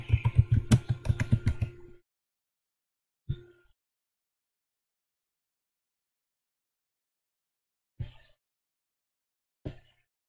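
A burst of rapid keystrokes on a computer keyboard, close and clear, runs for about two seconds, then three isolated key taps follow after long silent gaps.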